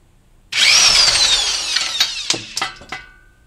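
A 22 mm nut on a 2002 Honda Odyssey transmission is broken loose with a wrench and breaker bar. It gives a sudden loud metallic creak and squeal that fades over about two seconds, followed by a few sharp clicks and knocks. No voices.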